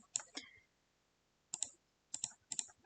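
Fingers type on a computer keyboard, tapping out four short clusters of crisp, close keystrokes separated by pauses in a quiet room.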